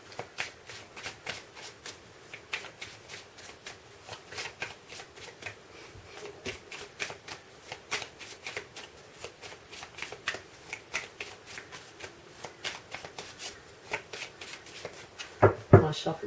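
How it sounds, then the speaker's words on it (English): Tarot cards are shuffled repeatedly in quick riffling bursts, a crisp rapid flutter close up, with a soft voice speaking now and then underneath. "My shuffle's just too great."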